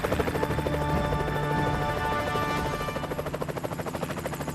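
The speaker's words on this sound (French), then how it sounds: "En suivant l'hélicoptère de sauvetage, nous découvrons la presqu'île de la Hougue" A rescue helicopter flies over the sea along the La Hougue peninsula on the Manche coast, its loud, steady rotor and engine drone turning into a rhythmic blade chop toward the end, with no voices.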